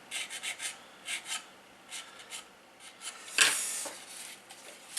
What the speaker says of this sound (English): all the putty I applied to this TA152 has been sanded and cleaned up